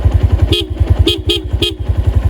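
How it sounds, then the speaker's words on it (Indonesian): Horn of a Honda Tiger Revo motorcycle with a GL engine, three short honks in quick succession over the steady thumping idle of the engine, loud and close. "Klakson juga masih nyaring om"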